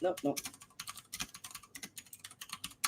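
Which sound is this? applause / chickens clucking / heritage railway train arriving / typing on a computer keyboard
typing on a computer keyboard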